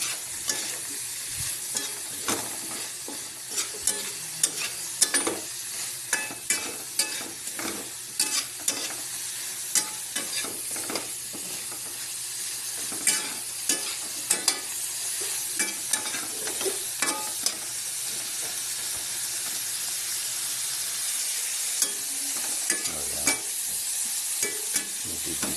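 Shrimp frying in a little oil while being stirred, giving a steady bright sizzle broken by frequent sharp scraping clicks of the utensil against the pan, close and continuous with no talking.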